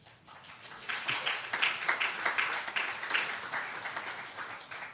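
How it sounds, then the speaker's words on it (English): Audience at a Scottish Wildlife Trust annual general meeting applauding after the financial report, a moderate round of clapping that rises quickly, pulses unevenly and slowly tapers. "You don't usually get applause for the financial bit"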